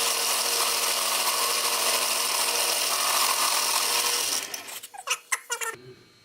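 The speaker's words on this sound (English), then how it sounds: "we're gonna drill a hole here" A power drill whines steadily for several seconds boring a hole in wood for a timber frame bench, then stops, followed by a few sharp knocks and scrapes of wood being handled.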